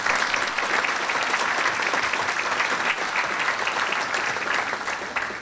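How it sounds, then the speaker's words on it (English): A gala audience breaks into a big, sustained round of applause, dense and even throughout, easing slightly at the very end. "We need to give her a big round of applause."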